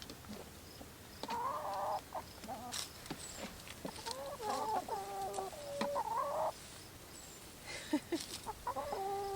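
Several chickens cluck and murmur close by in repeated short bursts, with a few higher calls and rustling in the background.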